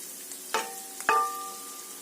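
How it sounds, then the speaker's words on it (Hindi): Ginger and garlic paste sizzles in a hot pan for a keema and capsicum dish, with two quick splattering bursts as it is stirred, over a steady quiet frying hiss. "टेबल स्पून जो है वो लहसुन का पेस्ट। फ्राई करेंगे भी इनको भी अच्छे से।"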